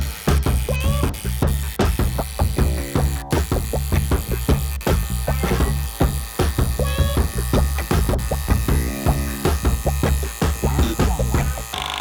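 A Milwaukee impact wrench, a mid-size model, runs bolts off in repeated loud bursts of rapid hammering rattle, close up and continuous for the whole stretch with brief pauses between bolts.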